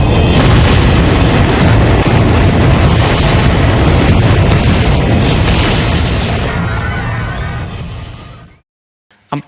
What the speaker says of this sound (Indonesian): Empat ledakan dahsyat yang terjadi itu bisa membuat orang tuli